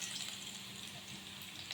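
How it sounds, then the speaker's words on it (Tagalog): Garlic fries in a pan in a home kitchen, giving a steady, even sizzle and crackle with no talking over it. "Tayo magprito ng bawang."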